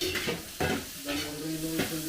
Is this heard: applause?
no